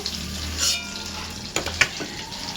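Green chili halved, a bay leaf and a little cumin crackle in hot oil for a paneer dish, a steady soft sizzle with a few sharp clinks of a spoon against the pan.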